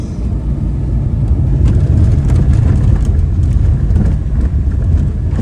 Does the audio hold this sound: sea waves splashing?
no